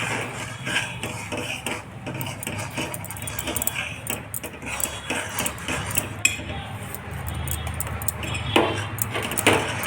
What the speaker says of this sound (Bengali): একটু ময়দা দিয়ে নেড়ে নেব